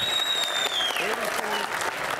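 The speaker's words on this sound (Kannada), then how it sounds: "ಆ್ಯಂಡ್ ಜೋರ್ ಚಪ್ಪಾಳೆ ಬರಬೇಕು ನಮ್ಮ ರಘುಗೋಸ್ಕರ" Dense applause at a film teaser launch press event for Raghu, steady and fairly loud, with some voices mixed into the clapping.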